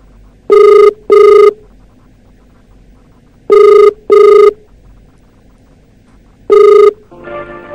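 An outgoing call rings back in pairs of loud electronic tones with silent gaps between, and a recorded voice starts at the end.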